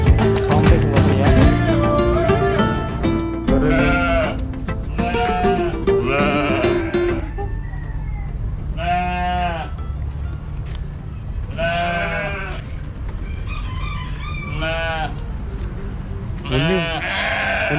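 Sheep in a small park bleat repeatedly at close range, loud wavering calls coming one after another, over a constant low outdoor hum.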